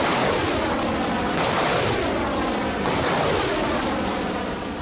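Artillery guns firing during a Burkina Faso army operation, heard as dense, sustained broadband roaring with booming surges around the one-and-a-half and three-second marks, loud and without voices.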